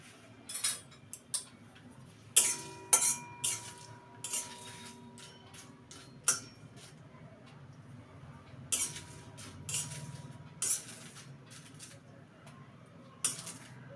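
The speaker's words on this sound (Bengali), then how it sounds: "একটু নাড়াচাড়া করে নিই" A spoon stirring chillies and coriander into amla pickle masala, producing sparse, sharp metallic clinks and scrapes against a bowl, close by and fairly quiet, with no voices.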